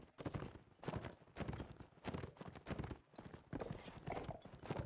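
Horse hooves galloping in Mount & Blade: Warband, a fast, rhythmic clatter of repeated hoofbeats that runs steadily throughout, fairly faint overall.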